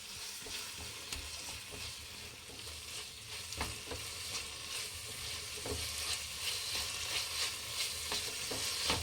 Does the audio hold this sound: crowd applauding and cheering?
no